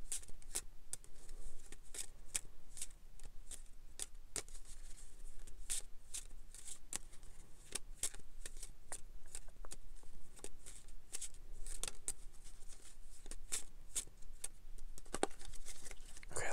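A deck of playing cards is shuffled close up, with rapid crisp riffles and sharp flicks repeating steadily for about sixteen seconds, no talking over it.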